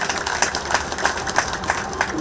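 Applause from the audience at a memorial ceremony marking the first anniversary of General Paik Sun-yup's death: a dense, steady patter of many hands nearby, with sharper claps standing out at a loose rhythm.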